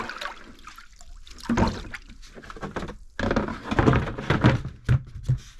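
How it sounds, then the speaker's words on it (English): A cast iron skillet is swished and stirred in a half-water, half-vinegar bath, giving irregular sloshing and splashing with a few dull knocks, fairly close, and louder bursts toward the end. "So I'm going to go ahead, put my pan in, mix it up a little bit."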